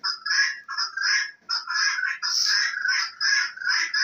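A rooster gives a string of loud, harsh squawking calls in quick succession, close by, with brief gaps between them.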